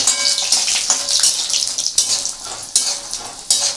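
Bori, sun-dried lentil dumplings, crackle and sizzle in hot oil for Bengali aloo posto, a bright hissing spatter that swells and eases, with several sharp pops and spoon knocks.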